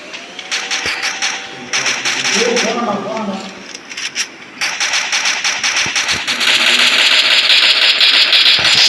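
Vehicle engine in the battle-royale game Free Fire: a buzzing, rattling motor that comes in, drops away, then returns and holds steady and loud to the end, with voices chattering over it.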